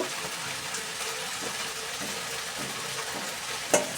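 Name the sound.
vegetable curry cooking in a pan, lid lifted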